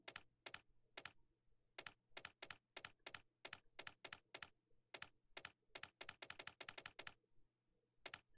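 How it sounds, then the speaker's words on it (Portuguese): Typing on a computer keyboard: a quiet run of crisp, uneven key clicks, some isolated and some in fast bursts, with no voices. "Será que se eu digitar o meu teclado ali?"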